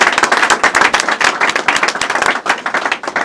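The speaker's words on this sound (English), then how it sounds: "If I could just give my staff a round of applause." A round of applause for staff breaks out at an Indiana Black Expo press conference: a crowd claps steadily and fairly close for several seconds, with no talking over it.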